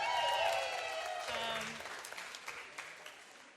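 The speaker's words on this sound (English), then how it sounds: "give a big round of applause" Audience applause at a live comedy show, starting loud and full as talk fades beneath it, then thinning into scattered claps that trail off toward the end.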